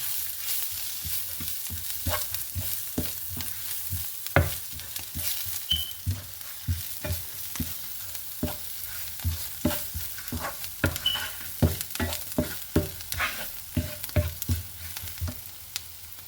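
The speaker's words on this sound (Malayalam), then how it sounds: "അപ്പം ഇതൊന്ന് ഇളക്കി യോജിപ്പിക്കണം" Spices frying in a pan for a carrot and horse gram thoran are stirred with a spoon, giving a steady soft sizzle under repeated scraping taps and clinks against the pan, close and alone.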